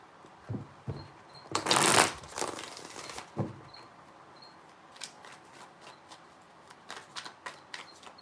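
Tarot cards are shuffled in three bursts, a loud riffling rush followed by softer scattered taps and slaps of cards handled up close in a quiet room.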